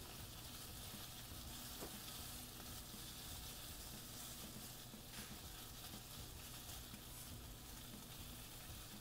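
Food cooking in a pan in the video game Chef Life makes a faint, steady frying hiss that carries evenly throughout with no voices.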